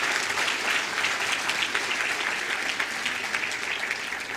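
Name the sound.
audience applause for a conference speaker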